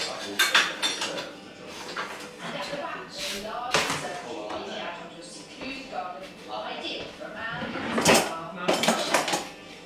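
Three bowls and utensils are handled for plating, bringing repeated ceramic clinks, knocks and metal rattles at an irregular pace, close by, with talk over them.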